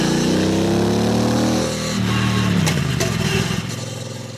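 A Triumph motorcycle engine rumbles loudly up close, its throaty revs rising and falling with a few sharp pops as it idles down.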